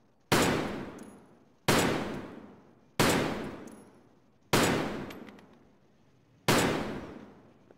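Five loud, single gunshots in Escape from Tarkov, spaced about a second and a half apart, each a sharp crack with a long echoing decay, with no talking.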